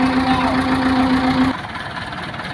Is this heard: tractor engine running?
yes